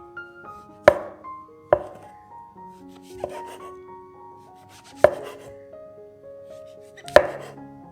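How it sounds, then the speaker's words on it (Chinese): Knife slicing a white mushroom on a cutting board for a vegan pizza bread, with five sharp, distinct chops spaced irregularly, each followed by a brief soft scrape, close and clear with no talk. "1朵白蘑菇切片，"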